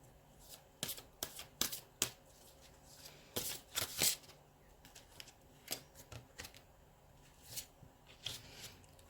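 Tarot cards being shuffled, giving crisp papery riffles and sharp slaps in uneven bursts, close and quiet in an otherwise still room with no talking.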